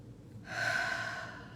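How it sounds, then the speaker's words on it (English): A single deep, slow breath is drawn in or let out during guided meditation, soft and close, alone with no talk. "Let's just breathe on that."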